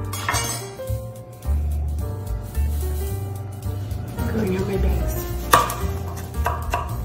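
A knife chops empanada filling ingredients on a board in rapid repeated thuds, with some glassy clinks between the cuts, close and fairly loud, as a voice talks alongside.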